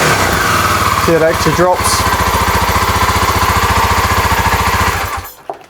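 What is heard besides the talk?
motorcycle engine revving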